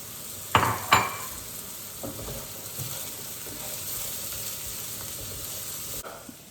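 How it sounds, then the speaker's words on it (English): Peppers sauté over high heat in a pan with very little oil, a steady close sizzle with two sharp scraping clatters near the start, then a fainter continuous hiss. "now this is more of a saute, because there's very little oil, and we're really got that high heat"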